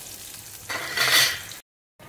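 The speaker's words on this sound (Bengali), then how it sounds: "দেখুন মাছগুলো একটা একটা ভাজা হয়ে যাচ্ছে, দেখুন ধীরে ধীরে ব্রাউন কালার হচ্ছে" Pieces of rui fish fry in hot oil, a bright, steady sizzle that swells louder partway through, then cuts off abruptly to silence before resuming faintly.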